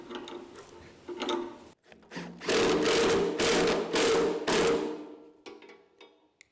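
A new bolt is fitted and a lock nut is run down onto it, making loud ratcheting, grinding mechanical bursts. Several close rhythmic rasping spells come in a row, with brief quieter gaps between them.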